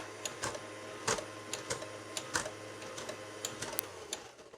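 An Oster Kitchen Center stand mixer runs its beaters through a flour batter, giving a steady mechanical whir broken by sharp irregular clicks and knocks from the bowl, all close and with no talking.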